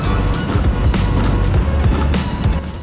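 A rental go-kart pulls away to rejoin a race at the TeamSport Sheffield indoor track, its small engine droning steadily up close with repeated surges as the throttle opens.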